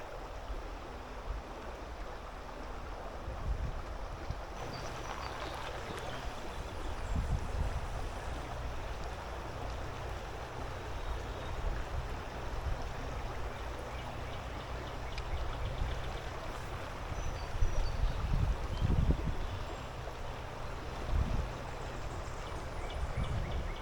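The Grand River runs shallow at low water, a steady wash of flowing water close by with occasional low thumps and splashes.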